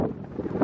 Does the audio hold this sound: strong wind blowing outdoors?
yes